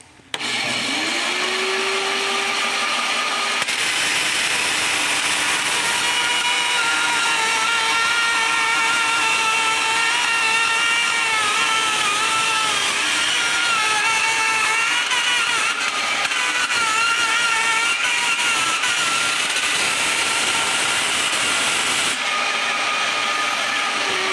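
A power saw blade cuts through a copper workpiece while a pendulum clock is being built, a loud continuous whining grind that rises at the start and runs steadily close up for over twenty seconds with no talking.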